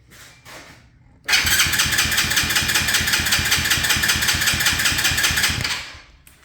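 An engine is cranked on its starter but never catches, giving a loud, steady, rapidly pulsing churn for about four seconds before it cuts off. No one speaks.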